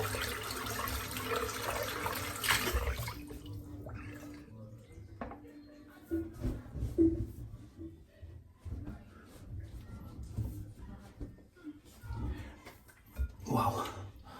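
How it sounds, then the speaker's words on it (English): Water runs from a faucet into a sink to rinse shaving soap away, a faint steady splashing and trickle in the background with a few soft knocks. "Just rinse off the soap."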